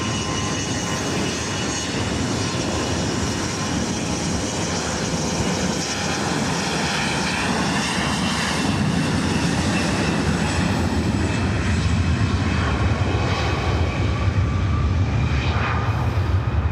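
An airliner taking off at LAX makes a loud, continuous jet roar with rising whining tones that sweep and build, the low rumble growing heavier over the last several seconds, with no talking.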